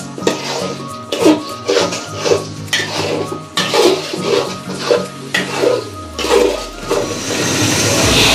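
Rice stir-fried in a pot gives repeated clanking scrapes of a spoon against metal, roughly eight strokes in a loose, uneven rhythm, near and fairly loud.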